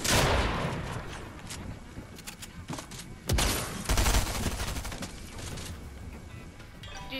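Rapid bursts of gunfire in the Fortnite video game, loud and dense, forming a continuous fusillade with a sharper blast partway through.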